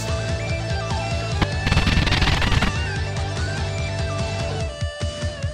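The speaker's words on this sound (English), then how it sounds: "Oh my gosh, look at all the explosions over here." Dense, loud rapid-fire gunfire and explosive bursts from the video game Dragon Ball Xenoverse 2, with heavy machine-gun-like rattling and crashes throughout.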